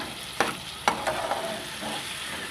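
Masala spices cook in hot oil with tomatoes, giving a soft sizzle broken by a few sharp scraping stirs near the start, quiet and close with no voices.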